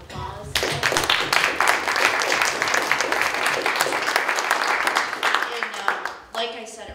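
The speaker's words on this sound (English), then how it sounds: "Can we have a round of applause?" An audience at a speakers' event claps in a dense, crackling round of applause, individual claps distinct near the microphone, holding steady for several seconds before tapering off.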